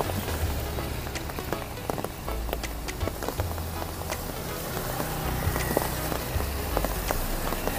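Steady rain falls on a Hanoi street near a lake during a storm in the rainy season, a dense, even hiss scattered with sharp droplet taps, over a low, constant rumble.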